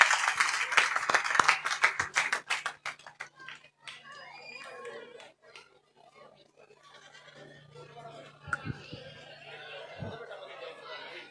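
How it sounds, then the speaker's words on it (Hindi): A village gathering's crowd breaks into a burst of dense clapping and applause that fades after a few seconds, followed by murmuring chatter and scattered voices. "एक बार जोरदार तालियों के साथ अपने बेटे अपने भाई का हौसला बढ़ा दें।"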